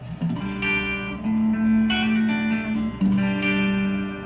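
A thick, warm electric guitar tone from the neck pickup of a Telecaster-style guitar plays sustained notes and short phrases with some reverb, alone and fairly loud.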